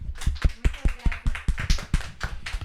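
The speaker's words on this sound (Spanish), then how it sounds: "te despedimos con un fuerte aplauso" Applause from a studio group bidding farewell to a guest on a Catholic talk program, heard as a ragged series of sharp hand claps at close range, fairly loud, roughly a dozen irregular beats with no voices.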